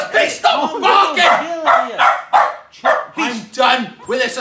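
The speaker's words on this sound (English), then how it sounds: "Please stop barking." Dog barking in a close, loud burst of rapid, repeated barks that run steadily throughout, mixed with lively voices in a room.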